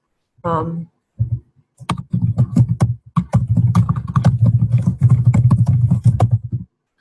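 Keys clatter in quick, uneven bursts of typing close to the listener, with a brief voice at the start.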